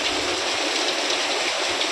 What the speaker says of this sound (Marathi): आणि पाऊस तर चालूच आहे रात्रभर तरी गरमी काही जात नाही